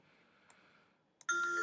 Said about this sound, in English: That's the sound of checkmate.